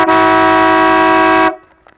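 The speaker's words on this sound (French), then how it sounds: "j'ai voulu un klaxon" A loud, steady horn blast from a 4x4 camper truck sounds close for about a second and a half, then cuts off sharply and rings briefly in the surroundings.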